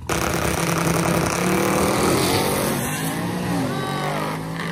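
Nostalgia funny cars and drag cars roar in heads-up racing down a drag strip, a loud sustained engine blare that holds steady and then eases slightly toward the end.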